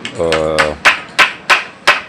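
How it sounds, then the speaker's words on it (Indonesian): Four sharp, evenly spaced knocks of a hammer striking a chisel into wood for an oil rack, preceded by a brief low hum, close and fairly loud. "saatnya sekarang saya pahat"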